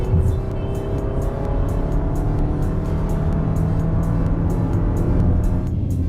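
A Toyota RAV4 engine drones steadily under acceleration, a rising hum with rumble and road noise heard from inside the cabin, continuous and fairly loud with no talking.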